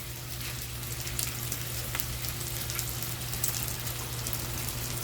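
Food sizzling on an outdoor Blackstone griddle, a steady, close, dense crackling hiss with no one talking.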